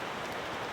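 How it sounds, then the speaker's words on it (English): Light rain spitting down at a winter mountain campsite beside a campfire, a soft steady broadband hiss of drops close by with no talk. "It's definitely raining."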